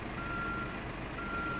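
Reversing alarm of a B-triple road train in Euro Truck Simulator 2: a steady, continuous electronic beep tone over a low truck engine rumble.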